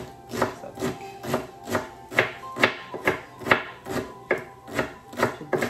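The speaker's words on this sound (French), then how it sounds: "Je déteste découper l'oignon." A knife chops through an onion on a cutting board in steady, evenly spaced strokes, about a dozen crisp close cuts with no talking.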